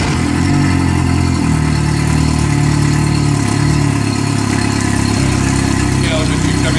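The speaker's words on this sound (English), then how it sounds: "we've got more noise out of it right now because of the way that we're out of the water" A fuel-injected four-stroke Yamaha outboard on a Robalo R160 runs out of the water on shore, giving a steady, loud, continuous engine drone with strong low harmonics, with no other sounds over it.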